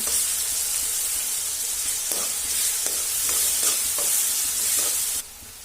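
Drumstick pieces frying in a pan with salt give a steady close sizzle, broken by occasional soft scrapes from stirring, then the sizzle drops suddenly near the end; no one speaks.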